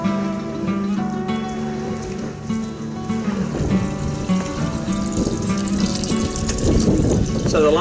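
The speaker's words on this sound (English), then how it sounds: "just filling the tanks and making sure nothing leaks" Water runs into tanks with a continuous splashing, gurgling rush that holds steady and grows a little fuller and louder as filling continues.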